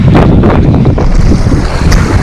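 Strong wind gusting on a beach in Crete, a loud continuous roar buffeting the microphone with lapping surf beneath it and no voices.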